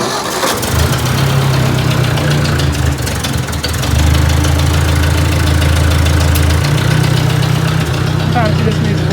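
An old tractor engine idling close by, a loud steady low rumble that keeps running throughout with slight shifts in pitch and roughness.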